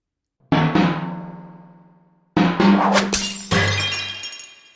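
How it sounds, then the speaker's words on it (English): Two separate crashes of glass shattering in the video game Winston Picketer and The Cursed Trove, each a sharp impact followed by tinkling debris, the second burst loud and layered with further breaking. "Sounds like some moron is breaking glass in my house."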